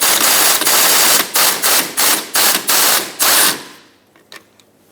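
A hand ratchet clicks in quick bursts while loosening 13mm master cylinder mounting nuts on a 1997-2006 Jeep Wrangler, the fast ratcheting broken into several short, loud, close strokes before stopping, followed by a couple of faint taps.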